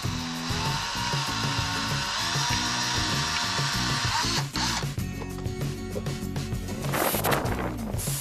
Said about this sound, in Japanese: まずはドリルで 下穴を開けました。